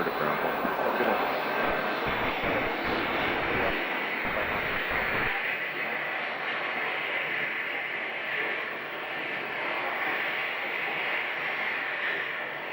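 An aircraft taxiing to its parking space on the Atlantic ramp at Scottsdale airport, giving a steady, close engine roar. A deeper low rumble underneath fades after about five seconds, leaving a constant broad whine.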